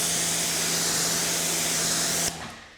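Gyeon ceramic coating spray is misted liberally onto the windshield of a Tesla Model 3. A loud, close, steady hiss lasts a couple of seconds, then cuts off abruptly.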